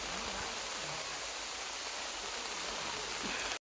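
Steady, dense rain falls at Japali near Tirupati, a continuous broadband wash lasting the whole stretch with no talk, even and close, before cutting off abruptly at the end.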